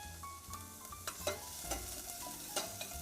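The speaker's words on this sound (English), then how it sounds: "So you start with just sauteing a few onions and garlic." Onions and garlic sautéing in a pan, a soft continuous sizzle with occasional spoon scrapes and clicks, fairly quiet and close.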